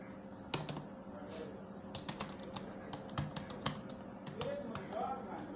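Rapid computer-keyboard typing of a short paragraph, a steady run of close, light key clicks with a few louder taps, over a faint background hum and some quiet speech.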